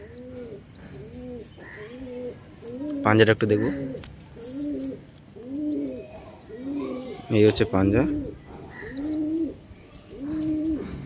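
Repeated soft pigeon coos in a steady rhythm, close by, while someone speaks over them in two short bursts.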